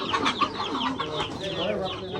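Roosters and chickens on a rooftop farm clucking and calling in a busy, overlapping chorus that carries on the whole time, with a few close bursts standing out above the rest.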